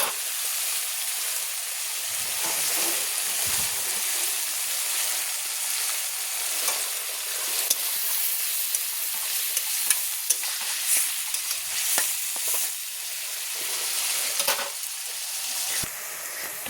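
Onions frying in a pan for a prawn curry, a dense continuous sizzle close up with frequent stirring scrapes and light knocks of the spatula throughout.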